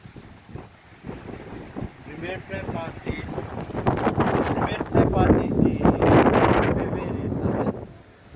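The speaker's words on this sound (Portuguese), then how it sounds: "O vento estourando tudo." Strong storm wind in the backcountry sertão gusts and roars against the microphone, building in loudness with rushing, buffeting noise while a person talks over it.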